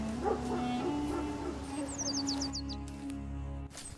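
A black dog whimpers and yelps as it is chased off, short cries over steady background music.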